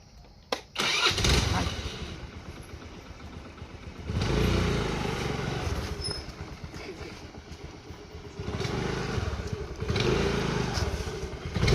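A Honda Activa scooter engine starts with a sharp crank and then runs in a steady mid-pitched putter, swelling and easing in waves nearby, with faint voices in the background.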